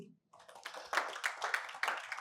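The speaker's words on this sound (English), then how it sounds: "So a round of applause for him, please." An audience at an annual lecture breaks into applause: light, scattered hand claps build into a steady patter of clapping, heard fairly close and with no talking over it.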